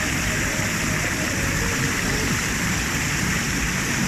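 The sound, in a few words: waterfall at Lata Berangin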